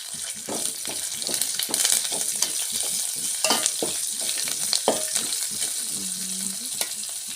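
Curry leaves and coriander sizzle and crackle in hot frying oil, a steady loud spitting hiss with scattered pops and a brief utensil clink near the end.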